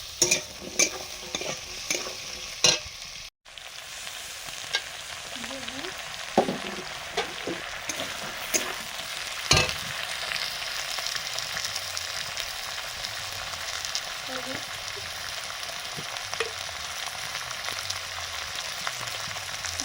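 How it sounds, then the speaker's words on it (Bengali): Thin-cut potatoes fry with onion in a pan, a soft steady sizzle broken up by repeated scraping and stirring strokes of a spatula. "পেঁয়াজের সঙ্গে আলুটা একটু ভাজা হবে।"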